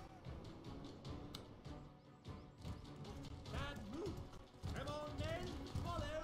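Horse hooves clip-clopping in the medieval combat game Mordhau, quick light clatters mixed with mechanical rattles and game noise, while someone talks over much of it.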